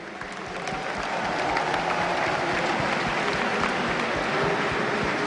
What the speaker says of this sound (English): Maybe a round of applause for our Minions.